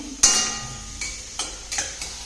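Onions for pav bhaji fry in a pan and are stirred, with a soft sizzle throughout broken by a few sharp scraping strokes of the spoon, close and alone with no talking.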